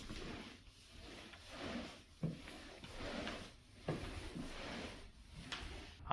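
A plastic mop bucket's wringer lever is pulled down and latched, producing several clunks and clicks with rustling handling noise in between, moderately close and fairly quiet, with no talking.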